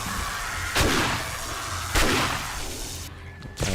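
Gunshots ring out in 7 Days To Die as zombies are shot during a horde night, loud booming reports spaced about a second apart against a dense background of game noise.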